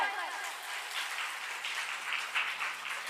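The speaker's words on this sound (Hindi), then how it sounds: "उनके लिए एक बार जोरदार तालियां बजा दीजिए, जोर से" An audience at a devotional katha gathering claps in a soft, scattered round of applause, fairly distant and quiet, with a low hum beneath.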